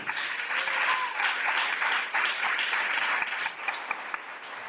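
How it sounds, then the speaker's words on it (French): A church congregation breaks into sustained, dense applause during a Sunday service, loud and continuous with a few sharper claps standing out. "on peut acclamer le Seigneur pour la parole de Dieu"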